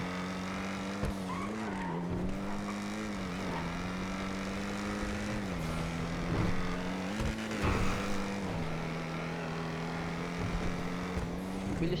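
A car speeds along in GTA roleplay with a steady, droning engine tone that rises and dips in pitch as it shifts and accelerates. It carries on continuously for several seconds at an even, moderate loudness.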